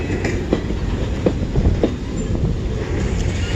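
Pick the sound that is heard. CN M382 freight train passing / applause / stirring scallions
CN M382 freight train passing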